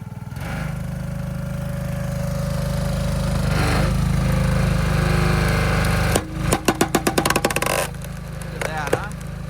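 Hydraulic log splitter working through firewood, a steady loud engine drone with a rising hydraulic strain, then a burst of sharp cracking and clattering as the wood splits, with people talking over it.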